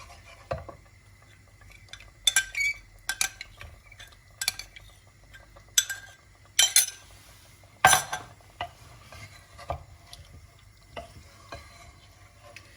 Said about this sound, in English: With one hand you'll put in the yogurt, and with the other hand you're going to mix it.